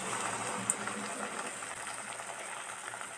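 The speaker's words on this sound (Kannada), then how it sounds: "ಬಿಸಿಯಾಗಿದೆ ಆಯಿಲು. ಇವಾಗ ಹೀರೆಕಾಯಿ ಬಜ್ಜಿನ ಹಾಕ್ಕೊಳ್ಳೋದು." Ridge gourd bajji fritters sizzling in hot oil give a steady, even bubbling hiss with no break, close and moderately quiet, and nobody talks over it.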